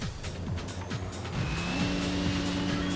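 Car engine and tire squeal in the Fist of the North Star video game, with a loud revving motor whose pitch repeatedly sweeps up and drops, then settles into a steady high drone, with no voices.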